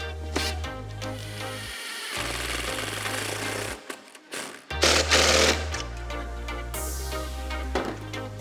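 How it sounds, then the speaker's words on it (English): Impact driver tightening the mount bolts for a Minn Kota Fortrex trolling motor, loud bursts of rapid hammering with brief pauses between runs and a strong low droning tone throughout. "It's also easier to get everything tighter with an impact."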